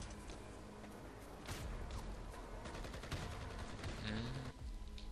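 Gunfire in the video game Project IGI, faint rapid bursts and single shots cracking in irregular clusters over a few seconds, with no talk over them.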